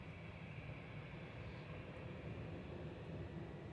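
An EasyJet Airbus A320 Classic rolls out after landing at Manchester Airport, heard as a faint, steady, broadband engine roar at a distance with no voices.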